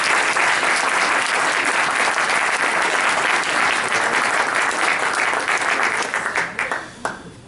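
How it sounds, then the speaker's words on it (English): Loud, dense audience applause welcoming a speaker at a transportation talk, sustained and even for several seconds before tapering off into a few last claps. "I would like you to give a big round of applause and make him welcome Tim Papandreou."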